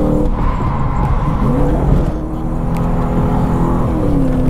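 A Lexus IS200 fitted with a 1UZ V8 engine drifts on a race track, its engine roaring continuously and loudly close by with rising and falling revs through the gears, and no talking.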